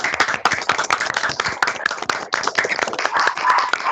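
Online participants in an HR webinar clap through their opened microphones, a loud, dense and uneven patter of many hands striking close to the mics with no talking.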